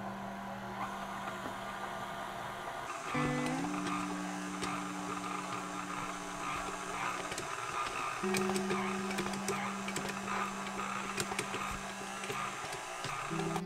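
A stand mixer kneads bread dough for Brazilian sausage bread, a steady motor drone that shifts pitch as the speed changes, with a faint rhythmic churning beneath.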